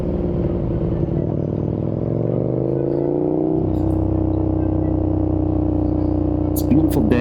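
A KTM 1290 Super Duke R engine rises through the revs, drops sharply at a gear change and carries on at a lower steady drone, heard close up from the rider's position under constant wind roar.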